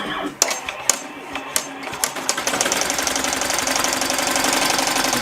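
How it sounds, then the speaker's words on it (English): A home embroidery machine stitching at 700 stitches per minute gives a steady, dense mechanical rattle, with a few sharp clacks at first and then continuous rapid stitching throughout. "I have it stitching only at 700 stitches a minute"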